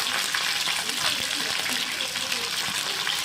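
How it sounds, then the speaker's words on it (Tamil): Sardines fry in a little oil in a pan, giving a dense, continuous sizzle and crackle that stays close and bright throughout, with faint stirring. "கொஞ்சம் எண்ணெய் இருக்கிறதால நம்ம கொஞ்சம் கொஞ்சமாக பொரித்து எடுத்துக்கலாம்"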